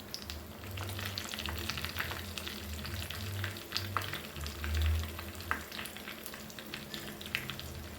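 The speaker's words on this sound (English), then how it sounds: "Then we'll add mustard seeds 1 teaspoon and cumin seeds 1 teaspoon." Mustard and cumin seeds frying in hot oil for a potato and cauliflower-leaf stir-fry, a continuous close crackle peppered with tiny pops and a low hum underneath, steady and moderately loud without talk.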